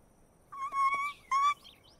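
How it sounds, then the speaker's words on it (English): Cartoon birds in My Little Pony: Friendship Is Magic give two short bursts of bright, whistling chirps separated by a brief pause, fairly quiet and with no voices. "Well, it looks like your birds are back."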